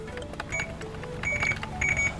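A Suzuki Ignis GX AGS 2019 touchscreen double-DIN head unit gives several short, bright electronic beeps in quick succession, fairly loud and close, with a quiet cabin behind them.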